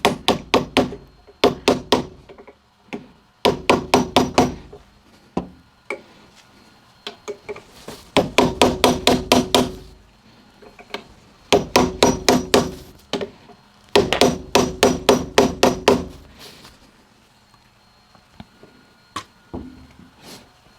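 A pulley is tapped onto the motor shaft of a Vevor 8x14 inch 650 W lathe, with repeated bursts of sharp metallic hammer strikes in quick runs separated by pauses, loud and close.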